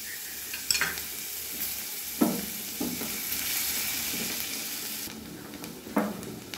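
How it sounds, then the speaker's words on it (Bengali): Chopped ginger sizzles and fries in hot oil in a pan, with a steady crackling hiss broken by a few louder stirring scrapes, close and moderately quiet. "আদা কুচিটা দিয়ে দিলাম।"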